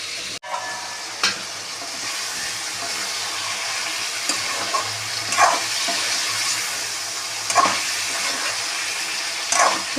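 Chicken and drumsticks cooking in a pan for a chicken curry, a continuous moderate sizzle with occasional louder stirring scrapes and knocks, no voices.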